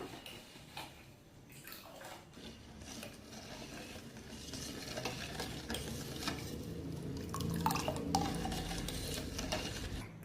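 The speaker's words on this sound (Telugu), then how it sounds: "బెల్లం కరిగేంత వరకు మనం మిక్స్ చేసుకోవాలి ఇలాగా" Jaggery being stirred into colostrum milk for Telugu-style junnu, a steady scraping and clinking of a utensil against a pot, continuous and fairly faint with no talking.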